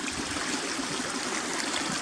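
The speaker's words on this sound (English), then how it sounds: "you can see the water running down the hill through the grass" A small stream trickles down a grassy hillside in Kidland Forest, giving a steady, close wash of running water with no voices.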